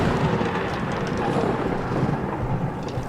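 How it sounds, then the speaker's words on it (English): Thunder from a lightning bolt striking a boat rumbles as a dense, continuous roar close by with no talking. "another bolt of lightning hits your boat"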